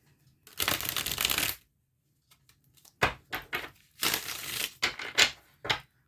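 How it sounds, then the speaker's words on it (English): A deck of tarot cards is shuffled close up in several bursts: a long riffle, then a pause, then shorter flicks and another riffle, each a crisp papery rush against near silence. "One more shuffle"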